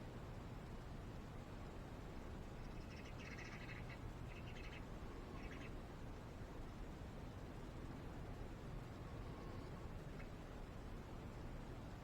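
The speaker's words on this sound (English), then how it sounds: "My little birdies out there." Faint birdsong outdoors, with a few brief chirps and twitters rising above a steady background hiss for a couple of seconds, then mostly quiet.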